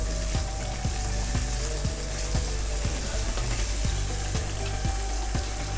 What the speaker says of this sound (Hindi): अब मैं इसको अच्छी तरह से भूनूँगी, सारे मसालों की स्मेल ख़त्म हो जाए और ये मसाला अच्छी तरह से भुन जाए।